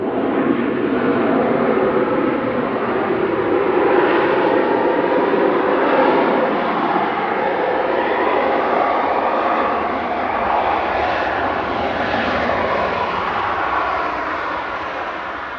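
A Malta Air jet from Dublin touching down at Manchester Airport produces a steady, moderately loud engine roar that holds fairly even throughout, drifting slightly, with no speech over it.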